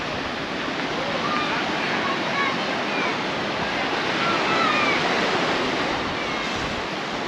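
Ocean waves wash onto Palmira beach in Paguera, Mallorca, a continuous broad rush of surf with some wind noise, steady and fairly loud throughout.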